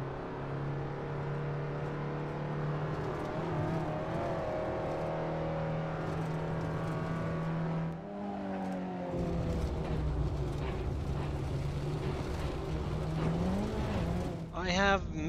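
A race car laps Barber Motorsports Park in Assetto Corsa, its engine droning steadily and shifting pitch through gear changes, with a voice talking over it.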